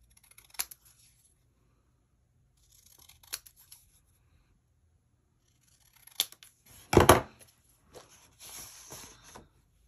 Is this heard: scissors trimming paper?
yes